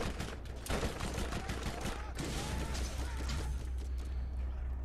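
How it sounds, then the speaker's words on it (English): Dense rapid gunfire from the video game Borderlands crackles in quick bursts, loud and continuous over a low background rumble, with a voice speaking briefly among the shots. "Who the hell is shooting at me?"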